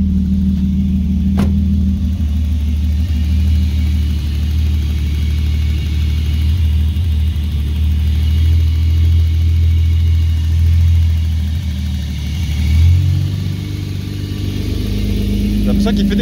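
A car engine runs steadily at a low idle throughout, loud and close, with a slight shift in pitch near the end as the revs change, while people talk over it.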